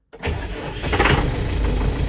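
A Scout TV-904C tractor engine starting: a brief cranking burst that catches quickly and settles into a steady, loud, rumbling diesel idle, close by with no talk.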